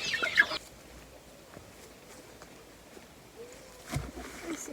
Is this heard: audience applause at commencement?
no